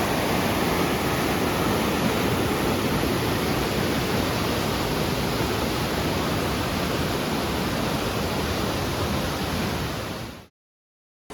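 Tat Ton waterfall in Chaiyaphum roars as a loud, steady rush of falling water, broadband and unbroken throughout, with no voices over it.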